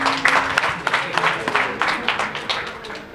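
Applause at an award ceremony for media inclusion in Mali: a moderate crowd claps in uneven bursts, fairly close, fading slightly toward the end.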